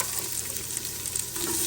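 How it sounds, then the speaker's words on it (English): Onions dropped into hot oil in an Instant Pot crackle and sizzle steadily at close range, with a faint stirring scrape running under the frying. "we're gonna go ahead and add our onions"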